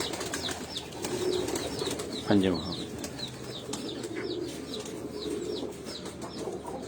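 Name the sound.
pigeons cooing on a rooftop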